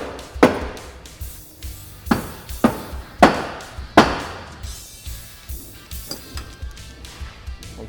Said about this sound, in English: So I'm just gonna kind of tap around until we're lined up.